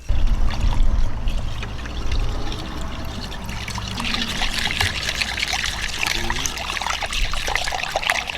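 Warm water pours and trickles steadily into a homemade natural cleaner mix, a continuous close splashing and gurgling stream with no talk.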